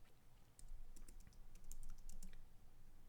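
Soft, quiet computer keyboard typing as C code is entered, irregular key taps in short clusters over a faint room hiss.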